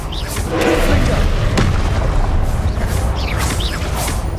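Confringo fire-spell explosions in the video game Hogwarts Legacy: deep booming blasts and crackling impacts over a dense, continuous layer of game combat noise.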